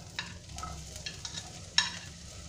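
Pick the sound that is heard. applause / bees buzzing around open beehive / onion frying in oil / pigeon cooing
onion frying in oil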